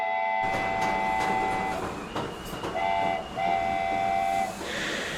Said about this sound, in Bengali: ট্রেন ধীরে ধীরে ছুটে চলল।